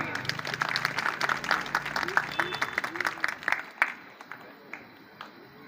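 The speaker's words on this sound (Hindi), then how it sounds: "भारती जी के जोरदार तालियां।" Audience applause for Bharati ji at a public gathering, a dense patter of claps with scattered voices that thins out and fades toward the end.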